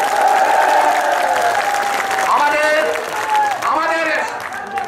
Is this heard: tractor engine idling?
no